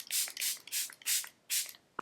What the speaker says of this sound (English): I'm going to spray my face with Charlotte Tilbury